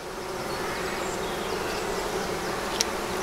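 Honeybees in an open hive during a spring inspection, a steady dense buzz of many insects close by, continuous and fairly faint, with one brief sharp click near the end.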